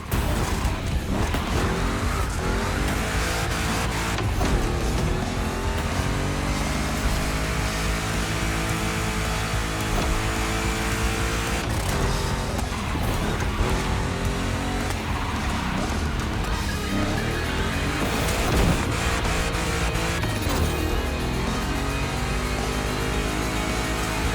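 Big-block Chevrolets, including a 1,000-horsepower Camaro, race in The Crew Motorfest with loud, continuous engine roar that rises and falls through gear changes and turns, joined by occasional tire squeal.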